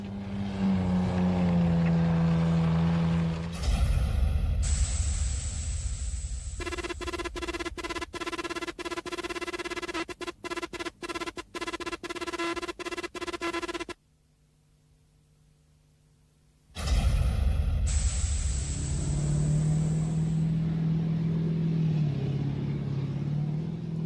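A British Army Spartan armoured vehicle, filmed in 1995, on the move: a loud, close engine rumble and whine with shifting pitch, clattering and rattling interior noise, a sudden near-silent stretch, then the heavy drone returns.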